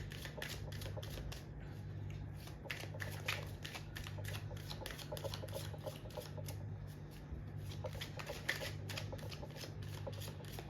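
Tarot cards being shuffled by hand in a fast, steady patter of riffling snaps, close and continuous, over a low constant hum with no talk.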